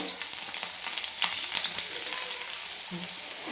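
A whole head of peeled garlic cloves dropped into very hot oil, giving a loud, dense, continuous crackling sizzle up close, steady throughout with no voices.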